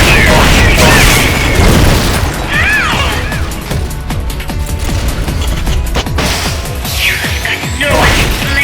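Supporting fire barrage in the Metal Gear Solid Peace Walker video game: a loud, dense stretch of booms, crashes and bursts rolling continuously, with brief voice fragments woven through the din.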